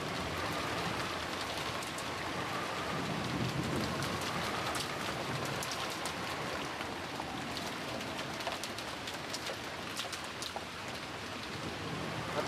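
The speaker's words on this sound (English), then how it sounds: "disappeared beneath the sound of the rain" Steady rain patters on surfaces throughout, a continuous wash of drops with soft birdlike coos faintly audible beneath. It is a rain sound effect from the visual novel Umineko, heard alone with no voices.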